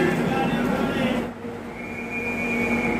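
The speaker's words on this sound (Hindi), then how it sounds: "संगमित्रा एक्सप्रेस डिपार्चर हो रही है।" The Sanghamitra Express pulls out of Katpadi railway station with a loud steady rumble of wheels and carriages, a faint metallic squeal fading in and out, with a brief dip in the noise partway.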